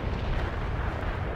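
Artillery barrage in World in Conflict, a Soviet assault battle, as a continuous deep rumbling roar of overlapping explosions, loud and steady throughout with no distinct separate blasts.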